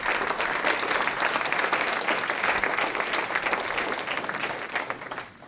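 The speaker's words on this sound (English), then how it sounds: "Please give them a round of applause." Audience applause for student teams at an E Squared finals event, a loud sustained wash of many hands clapping that tapers off in the last moment.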